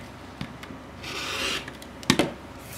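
A rotary cutter slices along a ruler through a fabric half square triangle quilt block, giving a soft rasping scrape followed by a sharper cutting burst, close and alone.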